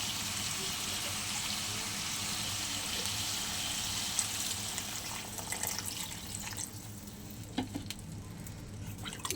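Water hits a hot frying pan of rohu fish curry with jhinge and potato, a loud, close hiss and sizzle that gradually thins out, followed by scattered clinks and stirring near the end.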